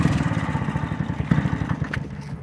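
A 1951 James Superlux 98cc autocycle's single-cylinder engine runs close by with a steady, rapid putter, ticking over evenly throughout with no talk.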